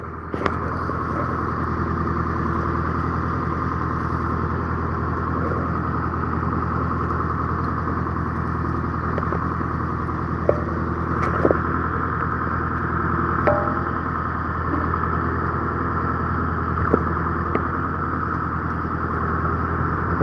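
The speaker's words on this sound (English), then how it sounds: "the engine could put some fish down" A fishing boat's engine idles during longline and jigging fishing, a steady low droning hum that runs unbroken for twenty seconds with faint clanks and ticks on top, no voices.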